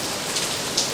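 Steady rainfall hissing evenly across the whole moment, a dense wash of drops with a couple of slightly brighter patters, no voices present.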